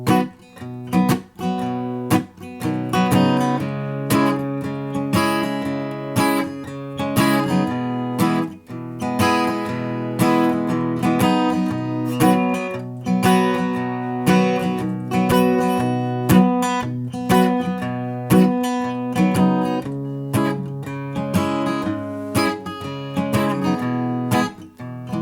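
Bright acoustic guitar strumming of a song in a bouncy, steady rhythm, chords repeating with crisp attacks, played alone and close.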